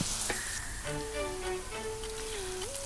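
Onions frying in a pan give a steady, soft sizzle at low volume, with tonal music playing over it throughout.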